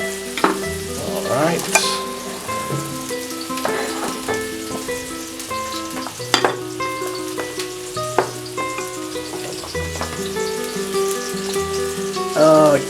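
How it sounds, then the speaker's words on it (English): Onion and garlic sizzle and fry in hot oil in a paella pan, a steady crackling hiss with stirring clatter and utensil knocks throughout; a voice speaks briefly. "Let's start by adding our onion and garlic."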